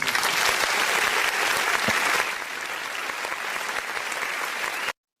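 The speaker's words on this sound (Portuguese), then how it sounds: "uma salva de palmas para Malu Gaspar." A Portuguese-language political commentary show plays a round of applause: thick, continuous clapping from a crowd at an even loudness for about five seconds, ending with a sudden cut to silence.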